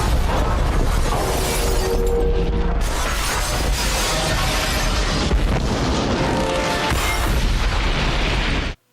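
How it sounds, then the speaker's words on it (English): Helicopter crash explosion from The Matrix, layered with shattering of different types of glass: a sustained, loud, dense roar of bursting glass and booming debris that runs continuously for about nine seconds before cutting off abruptly. "the exploding patterns of different types of glass in order to create this awe-inspiring helicopter crash"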